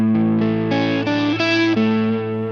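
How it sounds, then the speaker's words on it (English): An electric guitar plays a crunchy, mildly distorted rhythm part through a Vibralex cab modeled by a Two Notes Torpedo Reload II, a run of sustained chords shifting every half second or so, close and full with no voice. "I've got a great crunch rhythm tone."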